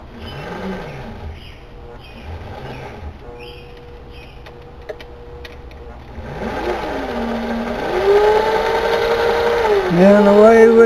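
A Pfaff 332 sewing machine winds a bobbin; its motor whirs up in rising and falling pitch sweeps, then settles into a louder, steady high hum, with a voice talking early on.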